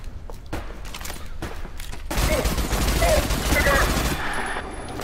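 Rapid gunfire rattles in the shooter video game Adaca, a dense sustained burst that swells after a quieter opening with scattered shots and movement, loud and close.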